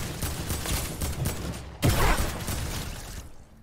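A new shotgun fires once in a video game: a sudden loud blast midway through busy, rattling game noise, which then fades out.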